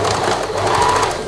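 A sewing machine stitches across the side seam of plain elasticated lingerie briefs, running in one steady, close, continuous burst with a fast even rattle.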